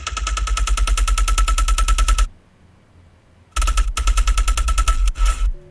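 A custom-designed synth main lead plays fast, buzzy pulsing notes in a rapid stuttering rhythm, loud and dry, with a short silent gap and a chopped final phrase.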